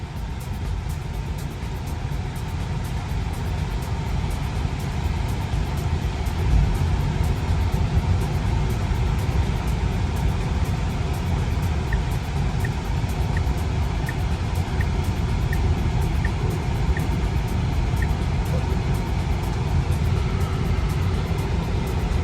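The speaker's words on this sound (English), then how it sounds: "Here we are driving the refresh Model 3." A refreshed Tesla Model 3 drives along, giving a steady, muted cabin hum of road and tyre noise with no engine note and no talk.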